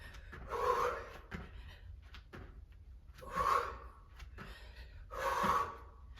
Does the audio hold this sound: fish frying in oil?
no